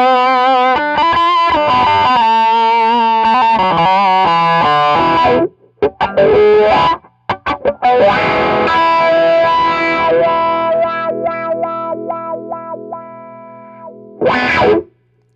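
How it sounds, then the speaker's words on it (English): Distorted electric guitar runs through a Vox V847 wah pedal into a Hot Rod Deluxe amp. Loud riffs and sustained notes swell and sweep, then a pause, more chords ringing out, and a final burst. "It is kind of a mild wah pedal."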